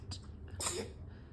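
A single sharp sneeze bursts out near the middle, close and fairly loud, over a quiet room hum.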